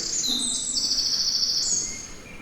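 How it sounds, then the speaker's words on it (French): A played recording of a Eurasian wren singing: bright, high trilling phrases, one after another, clear and fairly close, fading a little toward the end. "je vous passe par exemple un oiseau qui est bien connu, Troglodytes"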